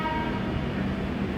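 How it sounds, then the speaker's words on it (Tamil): The Howrah Mail train bound for SMVT Bengaluru rolls past near Baiyappanahalli with a loud, continuous rumble of wheels on rails and a sustained horn tone. "இப்போ ஒரு ட்ரெயின் வந்து எஸ்எம்விடி"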